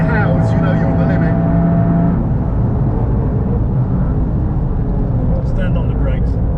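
Toyota Yaris GR engine on a race track, a loud continuous roar with a high howling tone that drops away partway through, heard from inside the car under talk.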